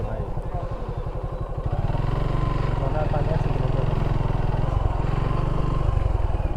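A motorbike engine putters nearby on a rural road in Kalmakanda, Netrokona, Bangladesh, growing louder as it passes, with people talking over the rumble.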